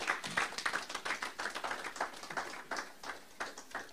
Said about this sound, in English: Clap hands for Jesus and give him